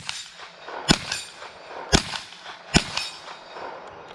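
A Marlin Model 60 rifle fires three sharp, loud shots, each about a second apart, with short echoing tails outdoors and no talking.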